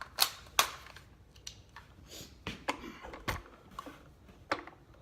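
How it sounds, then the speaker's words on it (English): Airsoft gun fired at a target through an EOTech 552 holographic sight during zeroing, giving a few sharp, close snapping shots spaced irregularly over several seconds, with faint handling clicks between them. "ready to take a few shots and see where we're lining up out of the box"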